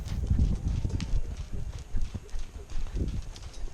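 Hooves of the horse Dandy clip-clopping as he is worked and moved alongside another horse, a steady uneven run of soft thuds close by, with occasional low voices or snorts mixed in.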